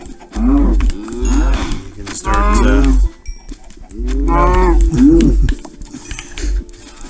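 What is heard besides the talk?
cows mooing in the video game Minecraft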